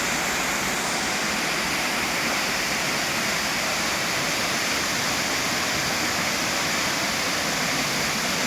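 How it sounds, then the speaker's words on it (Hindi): The Panjgiran waterfall in Kashmir gives off a steady, loud roar of rushing water, a close and unbroken hiss with no voices. "पानी का शोर इतनी ज़्यादा है"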